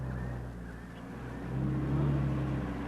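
A car approaches on the road as a steady engine hum that swells a little louder partway through, with a low, constant drone and no voices.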